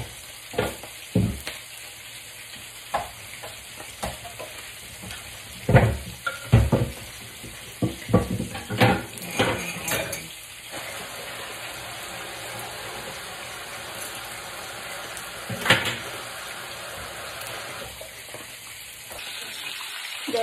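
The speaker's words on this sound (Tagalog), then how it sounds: "maghuhugas na tayo ng plato" Dishes and plates being washed under a running tap in a home kitchen, with a steady rush of water broken by clattering plates and clinks, louder in the first half.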